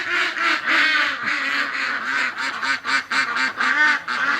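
A flock of ducks quacking loudly and continuously at close range on an early winter morning, a dense, overlapping chorus of rapid calls with no voices.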